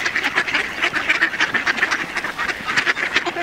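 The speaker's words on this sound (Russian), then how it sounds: "Утки наступают." A flock of ducks quack loudly and continuously, close by, as they crowd in to be fed at a duck farm, their overlapping calls forming a dense, steady clamor.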